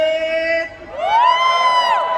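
Crowd at a folk music event in Wakad cheering, whooping and shouting together, a loud rising collective roar that swells after a brief dip.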